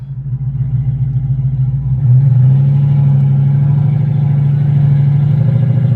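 Audi S6 with a swapped ZF8 automatic transmission, no power steering and new tires, driving off: a loud, close engine drone that steps up in pitch about two seconds in, then holds a steady, gruff hum.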